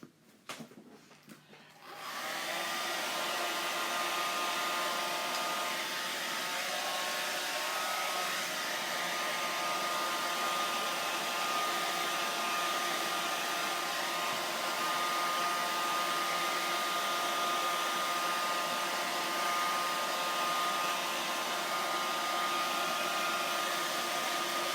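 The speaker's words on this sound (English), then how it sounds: "we're going to take the blow dryer and dry this really quick" Blow dryer running continuously at a steady loud whir while drying a deck surface, starting abruptly after a couple of seconds of handling noise and holding an unchanging tone throughout.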